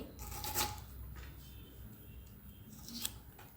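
Steady scraping and rasping as the skin is peeled off a bamboo shoot by hand, close up, with two sharper strokes standing out against a continuous rough hiss.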